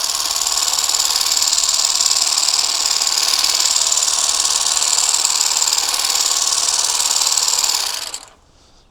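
A Ryobi 18V ONE+ cordless grass shears cutting grass runs with a loud, steady high-pitched buzzing chatter for about eight seconds, then cuts off abruptly into near silence.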